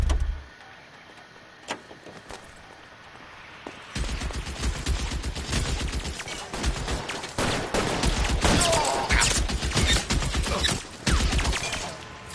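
Police gunfire in the video game L.A. Noire, with sustained volleys of rapid shots over a running car engine, loud and dense after a brief quiet opening.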